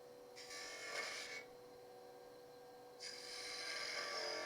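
A skew chisel cuts wood on a lathe while a classical wood pottery vessel is being turned. Two distinct hissing, scraping passes sound close up over quiet room noise.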